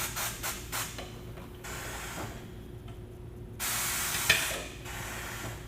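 The pneumatic assist arm of a tire machine presses a tire down on an alloy rim, with short bursts of air hiss, a longer hissing stretch and a brief mechanical clunk, nearby and fairly quiet.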